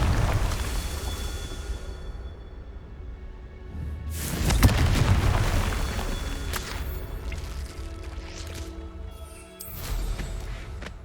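Spell explosions go off in the video game Hogwarts Legacy, heavy booming thuds and crackling bursts over a steady rumbling game backdrop, with one big blast near the middle and a few sharper hits toward the end.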